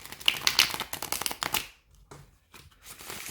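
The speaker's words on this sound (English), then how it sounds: "I'll do a riffle really quickly." Quick riffle shuffle of a Rider-Waite-Smith tarot deck, a dense burst of rapid card flutter for about a second and a half, then near silence broken by a few soft card taps.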